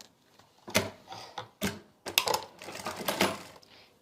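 A sewing machine stitches salwar fabric onto a waistband belt in several short, uneven bursts of rapid mechanical rattling, with brief pauses between them.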